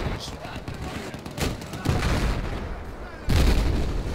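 Battlefield 4 gunfire crackles in repeated bursts with heavy booms, dense and loud, mixed with game ambience and a player's voice.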